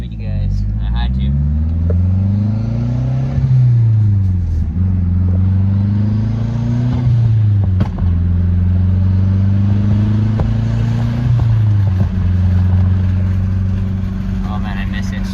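Mazdaspeed6 car engine droning loud and close throughout, pitch climbing and falling in repeated sweeps through the gears as it accelerates hard while cruising.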